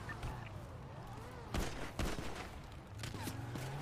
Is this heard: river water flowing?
no